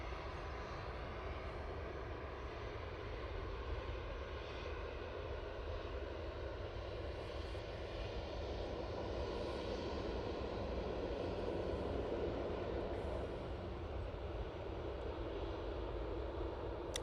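Airbus A319 airliner taking off from Manchester Airport, a steady, distant jet engine roar that holds evenly throughout with a faint background hiss and no talking.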